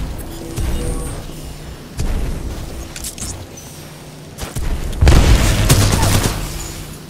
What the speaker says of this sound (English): Okay, submachine gun.